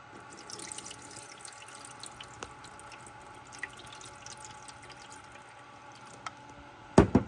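Water poured into the tray of a Nurture Right 360 incubator, a soft trickle and gentle splashing close by, quiet and intermittent, with a sharper clatter of plastic at the end.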